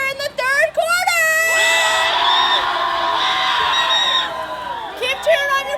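Student section crowd at a Broncos game, a loud burst of cheering and whooping with high-pitched yells that swells into a sustained roar for a couple of seconds before settling, with shouting voices around it.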